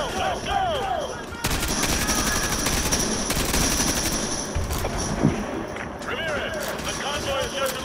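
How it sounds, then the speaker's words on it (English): Rapid automatic gunfire from Call of Duty: Modern Warfare Remastered campaign on PS5, sustained bursts filling most of the stretch with voices shouting over the battle. "we got to keep shooting these dudes"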